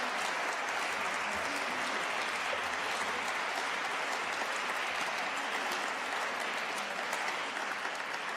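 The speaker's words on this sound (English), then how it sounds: "A round of applause from them both," Sustained, even applause fills a hall at a university Making a Difference Awards evening as award presenters leave the stage, a dense wash of many hands clapping at steady loudness throughout.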